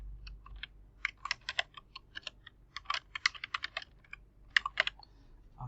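Fast typing on a computer keyboard while setting text in Adobe Premiere Pro, with irregular bursts of crisp key clicks, a few brief pauses, fairly close and heard alone.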